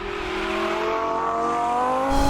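A Lamborghini Balboni Gallardo, rear-wheel drive, revs steadily upward with rising engine harmonics, then a sharp break near the end marks a hard, abrupt gear shift; loud and close, with no talking.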